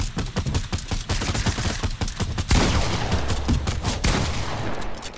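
Rapid gunfire in an online squad shooter video game, dense continuous bursts of shots close up and loud, with no voices.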